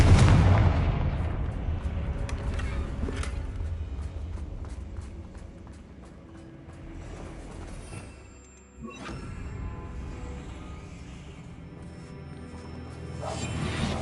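Confringo blasting spell from Hogwarts Legacy, a loud booming burst at the start that trails into rumbling debris and a second softer blast near the end, with game ambience between.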